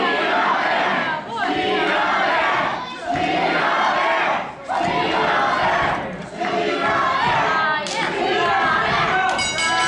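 A wrestling crowd at a Pure Power Wrestling event roars and chants loudly in repeated rhythmic surges with brief dips between them, a dense wall of voices behind a wrestler.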